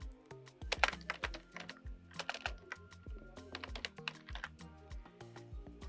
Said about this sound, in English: then I type pizza